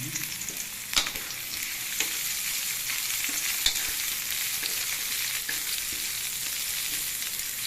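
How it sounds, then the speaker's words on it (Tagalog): Garlic and onion fry in a pan as the base for squid adobo, giving a steady, close sizzle with a few sharp clacks from a utensil. No one speaks. "Lalagay ko na yung bawang. Para ah, sibuyas pala"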